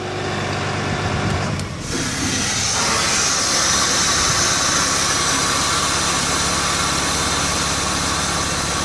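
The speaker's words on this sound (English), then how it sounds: "Nothing to see, just letting you hear it. And that is how a Vmac VR70 underhood air compressor works." A VMAC VR70 underhood air compressor runs steadily at close range, a loud continuous mechanical drone with a brief dip near the start, with no one talking.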